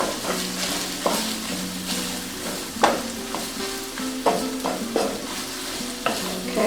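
Vegetables and sausage stirred in a frying pan for Cajun dirty rice: a steady sizzle with repeated scraping, clacking strokes of a utensil against the pan at an irregular rhythm, close and fairly loud, with no talking.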